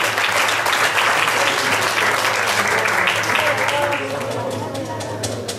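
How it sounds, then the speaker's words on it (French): A crowd at a cycling awards evening gives loud, sustained applause to six national cyclocross champions on the podium, a thick continuous roar of clapping with cheering voices mixed in throughout. "Et on les applaudit très très fort pour ce titre national"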